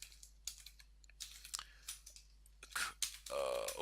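Fingers type on a computer keyboard in quick bursts of clicks with short pauses between, close and fairly quiet, ending in a longer run of keystrokes.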